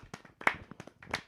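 A handful of people clapping briefly in a small room during a live sports talk show, a few sparse, uneven claps with no talk over them.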